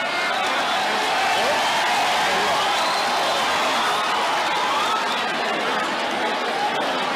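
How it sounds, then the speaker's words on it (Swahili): A crowd at an outdoor gathering claps and cheers steadily, a dense wash of applause mixed with chatter and murmuring voices that holds at an even level throughout. "Mwalimu tumpigie makofi"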